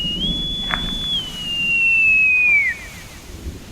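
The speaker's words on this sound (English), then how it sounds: "Britt's shrill whistle and posh voice sounded over the 1MC" A single shrill whistle comes over a ship's 1MC loudspeaker, a thin sustained tone that holds, then slides gradually downward before cutting off, faintly tinny against a low background hum.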